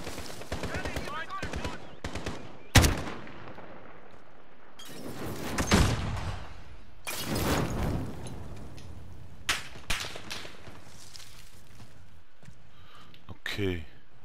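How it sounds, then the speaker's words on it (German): Automatic fire from an AK-47 assault rifle in the shooter game Modern Warfare, heard as several loud bursts and single cracks spread across the stretch, mixed with game noise and voices talking. "AK-47."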